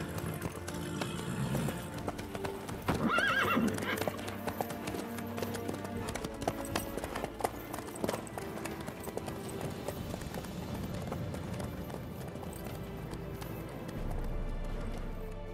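Horse galloping in The Witcher 3, steady rhythmic clip-clop of hooves carrying on at a moderate, even pace over game ambience and music, with no talk.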